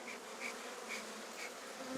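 Honeybees buzzing around an open beehive at a pre-winter apiary visit, a faint steady hum of many insects with no voices.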